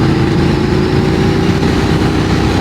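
A BMW F 900 R motorcycle engine pulls hard while accelerating in top gear for an overtake, a loud, dense, continuous drone heard up close with wind noise.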